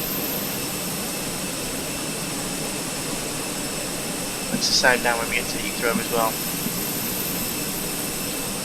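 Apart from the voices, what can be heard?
Fenix A320 IAE jet engines running, from video game MSFS 2020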